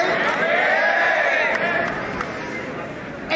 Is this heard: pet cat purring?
no